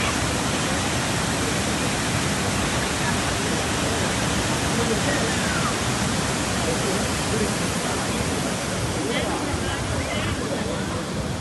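Bogatha waterfall rushes as a dense, steady roar of falling water, loud and unbroken throughout with no pauses.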